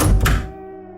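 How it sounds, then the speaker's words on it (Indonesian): A door in horror story narration opens with a single heavy thunk followed by a ringing tonal decay that fades out within a second. "Pintu pun terbuka."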